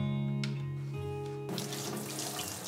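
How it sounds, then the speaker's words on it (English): Lukewarm tap water runs into a sourdough starter jar holding starter with whole wheat and plain bread flour, beginning as a faint trickle and swelling into a steady, fuller splashing stream partway through. "add 60 grams of lukewarm water to the jar"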